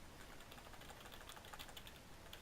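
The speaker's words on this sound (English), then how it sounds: "You can hear me spamming the buttons." Fast, steady clatter of computer keyboard keys hammered in quick succession during a World of Warcraft Cataclysm Enhancement Shaman rotation, close and faint with no talking.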